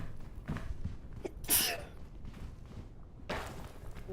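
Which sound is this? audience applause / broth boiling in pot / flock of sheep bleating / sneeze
sneeze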